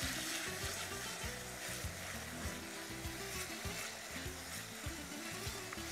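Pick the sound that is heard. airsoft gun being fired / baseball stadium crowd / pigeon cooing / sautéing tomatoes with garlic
sautéing tomatoes with garlic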